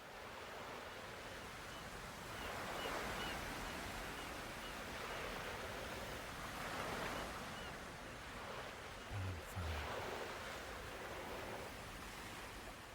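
Soft surf washes against a tropical beach shore in slow, gentle swells rising and falling over several seconds, faint and continuous with a brief low thump partway through.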